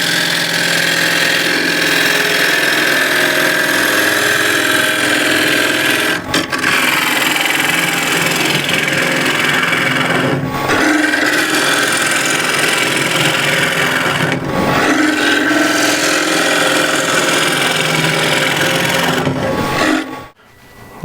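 A KS bowl gouge cuts apple wood spinning on a lathe, peeling side grain while facing end grain. A steady, loud scraping hiss rides over the motor's hum, broken by a few brief pauses where the tool lifts off.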